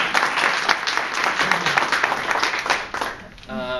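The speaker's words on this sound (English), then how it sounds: "applause." Audience applause fills a medical talk about mini-gastric bypass surgery, a dense burst of clapping that holds steady for about three seconds, then thins and fades out near the end.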